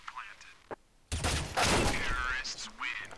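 Gunfire in Counter-Strike on de_mirage during a professional match: a sudden loud burst of rapid shots follows a quiet stretch with a single click, mixed with a caster's voice talking over it.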